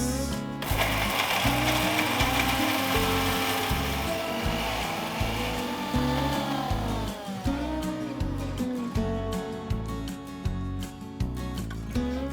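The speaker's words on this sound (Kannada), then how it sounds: "ಸ್ವಲ್ಪ ನೀರನ್ನ ಆ್ಯಡ್ ಮಾಡಿಕೊಂಡು ನೀರನ್ನ ಆ್ಯಡ್ ಮಾಡಿ ಫೈನ್ ಪೇಸ್ಟ್ ಆಗಿ ರುಬ್ಕೊಳ್ಳೋಣ" A mixer grinder whirs steadily as spice paste with added water is ground for Mysore-style mutton chops, a loud, continuous motor drone with rhythmic churning pulses throughout.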